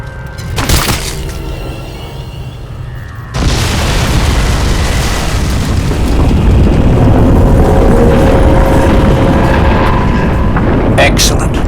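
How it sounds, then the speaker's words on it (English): A heavy explosion in the video game Crysis 2 Remastered: a sharp crack, then a loud, sustained roaring boom with crackling debris that continues for several seconds. "Warning. Explosion imminent."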